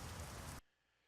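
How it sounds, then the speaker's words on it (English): Rain pours in the Euro Truck Simulator 2 driving game, a dense loud hiss of drops on a surface for about half a second before cutting off abruptly to near silence. "Yay, rain!"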